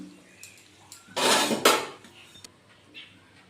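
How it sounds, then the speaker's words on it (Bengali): Potatoes frying in oil with a little sugar, turned in the pan, giving a few close metallic scrapes and clatters of a utensil against the pan, with quiet gaps between strokes. "তো আলুগুলোকে এইভাবে তেলের মধ্যে নেড়ে নেড়ে"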